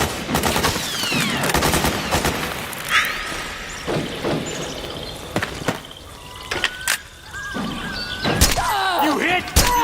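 Gunfire in Metal Gear Solid 4: Guns of the Patriots: bursts of sharp shots and rapid automatic fire crack over a chaotic battlefield, mixed with thuds and shattering impacts while voices shout in the fight.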